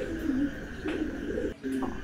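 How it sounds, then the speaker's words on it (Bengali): A pair of Andalusian and kite-colored pigeons cooing close by, with three low, throaty coo phrases separated by short pauses over faint background noise. "চমৎকার 1 জোড়া কবুতর"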